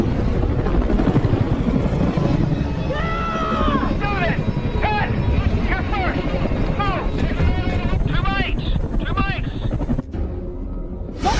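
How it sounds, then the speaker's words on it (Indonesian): Two rescue helicopters in a war-zone film roar overhead with a dense, continuous rotor and engine din, and swooping tones rise and fall across the noise. "2 helikopter bantuan melintas di atas persembunyian Axe dan Markus"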